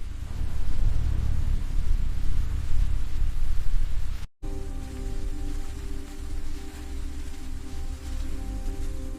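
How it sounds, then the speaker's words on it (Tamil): Heavy rain pours steadily at night over an ancient Shiva temple hall, a dense close hiss of drops on surfaces; after a brief gap the downpour continues with a faint steady hum beneath it. "இரவு நேரம் பலத்த மழை பெய்து கொண்டிருந்தது"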